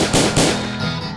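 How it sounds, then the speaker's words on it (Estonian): Two or three rapid gunshot-like bangs, loud and close, set within a dense music track. "Varas, varas, siin lasen ma."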